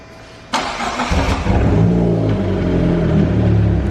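A Nissan 300ZX Z32, left sitting for two years, cranks and catches after a brief quiet moment, then settles into a loud, close, steady rumbling run with slight rev swells and no talking.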